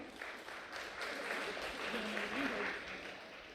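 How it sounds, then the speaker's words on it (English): Faint, distant audience applause at a youth leader summit final, a soft continuous patter of clapping with murmured voices underneath. "So please give a big round of applause for everyone here today."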